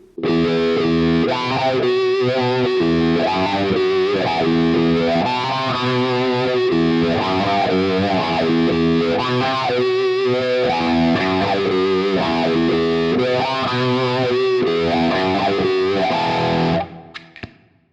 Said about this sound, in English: So with the wah, it's going to sound like this.